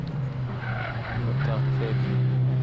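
A Renault rally car, a Clio Sport or Twingo RX S1600, brakes hard with tires squealing under a loud, continuous engine roar, heard from close by with a voice speaking over it.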